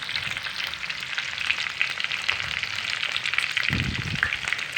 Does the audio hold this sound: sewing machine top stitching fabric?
no